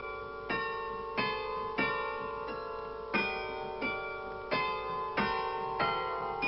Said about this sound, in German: Der Klang des Glockenspiels bricht sich an den schönen alten Giebeln und Häusern der nahen Umgebung.